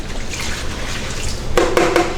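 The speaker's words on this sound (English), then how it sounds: "We're going to go ahead and dump this into the toilet." Urine poured from a measuring container into a toilet after catheter output is measured: a soft trickle at first, then a louder splashing pour in short bursts near the end, with no talking.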